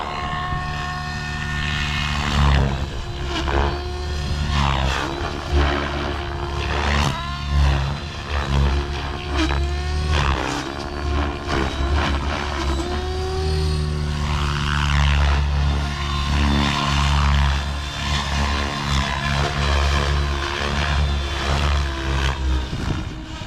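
A Blade Fusion 700 RC helicopter flies nearby, its rotor and electric motor whining loud and continuous, with pitch rising and falling as it maneuvers throughout, no voices.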